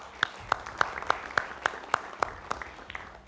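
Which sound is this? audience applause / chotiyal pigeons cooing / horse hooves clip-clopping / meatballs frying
audience applause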